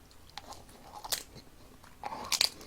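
Crunchy fried Korean rice cake (tteok twigim) from a delivery chicken meal is bitten and chewed close to the mic, giving a few sharp crisp crunches with quieter chewing between.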